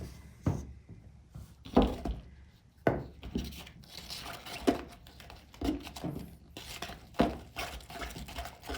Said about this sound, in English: I'm just going to mix up the salt wash and paint